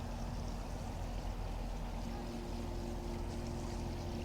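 A Runferry bait boat on autopilot heads home across the water, its small motor giving a steady, faint, continuous hum and drone over a wash of water noise, without talking.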